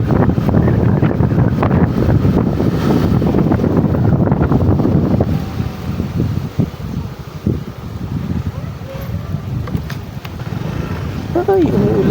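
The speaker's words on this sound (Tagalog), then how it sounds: "Ang lakas ng alon, no?" Gusty wind buffets the microphone over crashing waves at San Rafael, Ragay, in the rain, loud at first and then easing, with a voice talking through it.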